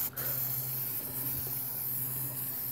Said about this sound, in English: don't spray side to side, like this.